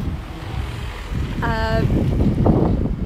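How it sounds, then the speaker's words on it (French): Wind buffets a microphone outdoors with low rumbling gusts that build toward the end, and a brief tonal call briefly rises above the noise midway. "il semblerait que le vent s'est mis de la partie"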